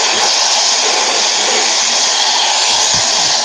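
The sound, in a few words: hair dryer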